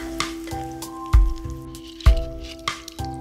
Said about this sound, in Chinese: 起油锅， 放入葱节、姜片、蒜片煸香